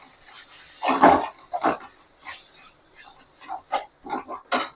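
Chicken masala and chili powder being stirred in a hot pan, with intermittent scraping and clinking of a spoon against metal in short bursts, close and fairly loud, without talking.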